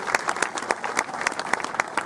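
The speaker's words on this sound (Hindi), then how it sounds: "हम सब तालियां बजाकर उनका स्वागत करेंगे।" A crowd at a forest-campaign event in Burhanpur, Madhya Pradesh claps in welcome for a guest, a lively patter of many hands with distinct sharper claps popping out, close and continuous.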